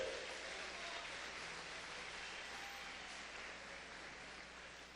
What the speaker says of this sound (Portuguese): Acho que isso merece até um aplauso agora, né?